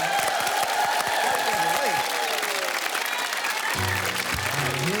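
TV studio audience applauds and cheers steadily after a musical performance, loud dense clapping with voices mixed in throughout.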